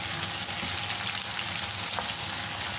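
Carrots fry in a pan, giving a steady, close sizzle with a faint stir near the end and no talking.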